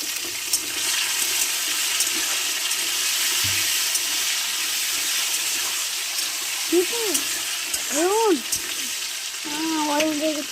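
Tomatoes go into a pan of reddish fried onions for a home-style chicken curry, setting off a steady, close sizzle of frying. A voice speaks briefly toward the end.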